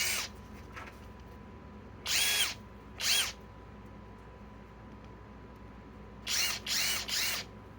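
A Flex FX1431A compact impact wrench runs in five short bursts, two apart early and then three close together near the end, each loud against a quiet background as it is cycled through its speed settings.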